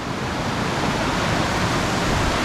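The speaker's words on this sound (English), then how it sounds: "Now we're alongside the creek again." A creek flows beside a mountain trail near Mine Road Trail and Snow Gulch, a loud, steady rush of water close by with no breaks and no voices.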